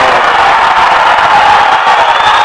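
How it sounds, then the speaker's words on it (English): A boys basketball crowd in a high school gym roars after a slam dunk, a dense, loud, steady wash of cheering and whoops throughout. "That got the crowd going."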